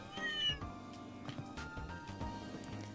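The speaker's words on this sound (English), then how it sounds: "Ah, kitty." A cat meows in the video game Trails in the Sky, giving one clear, tonal meow up close and then softer, shorter mews over game background sounds.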